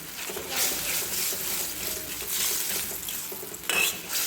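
Vermicelli upma cooking in a pan, a steady soft broadband sizzle with faint scraping and a brief utensil clink near the end, no voices.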